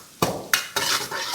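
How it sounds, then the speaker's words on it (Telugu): Green chillies drop into a hot pan for hotel-style aloo fry for masala dosa, with sharp clinks of a spoon against the pan and a close sizzle. "ఆ తర్వాత పచ్చిమిర్చి వేసామండి."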